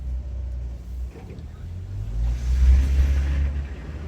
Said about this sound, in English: I don't know why my car is revved up